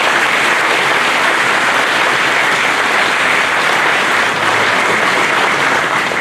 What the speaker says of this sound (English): let's give one more round of applause for all our award winners